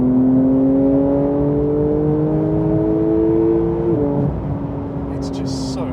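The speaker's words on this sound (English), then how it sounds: "We'll just try and get a few revs out of it here." A Porsche 992 GT3 on its stock exhaust runs close and loud, engine note rising steadily under a rev, then dropping off near the end, with a voice speaking over part of it.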